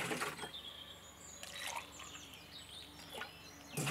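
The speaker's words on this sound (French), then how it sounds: "je remplis le gobelet une fois, je verse dans un arrosoir" Water poured from a plastic cup into a watering can during a classroom lesson on measuring volume. Faint, intermittent trickles and small splashes come in short bursts, with quiet pauses between pours.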